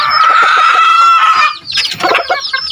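Chickens and a rooster cluck loudly and close by, with rapid overlapping calls, then a brief dip before more clucking.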